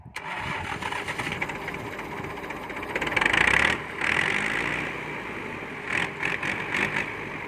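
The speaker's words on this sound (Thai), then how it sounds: "เครื่องสตาร์ทติดง่ายนะครับเครื่อง เป็นเครื่องยนต์ สี่สูบนะครับตัวนี้" A four-cylinder tractor engine turns over and settles into a steady, rough running rumble, swelling louder for a moment midway before evening out again.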